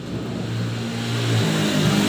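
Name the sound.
Honda Vario scooter engine starting and running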